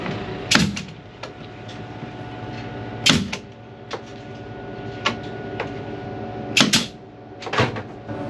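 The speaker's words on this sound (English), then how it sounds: "it's a little easier just to hit it with a nail gun and screw it in." Nail gun firing into a wooden wall panel inside a van, a series of sharp, loud pneumatic shots spaced a few seconds apart, some in quick pairs, with no talking.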